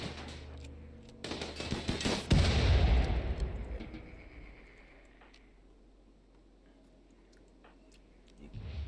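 Gunfire in the colony-building video game Rimworld: a cluster of sharp shots in the first few seconds, then a fading rumble and a quiet stretch.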